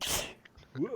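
A single sharp sneeze bursts out loud and close at the start, followed by a short spoken exclamation and more voices during a tabletop roleplaying game session.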